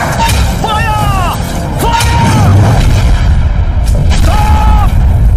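An artillery gun fires in a Hindi-dubbed South Indian action film, giving several heavy booms spaced a second or two apart amid dense battle noise, with loud shouting voices over the top.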